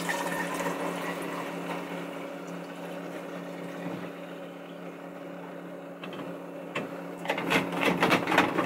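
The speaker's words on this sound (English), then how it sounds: "Then we're gonna get the HC110 that's mixed here and pour it in." HC110 film developer poured into a Jobo processor, a steady liquid rush over a constant machine hum, followed by a few clunks and splashing bursts near the end.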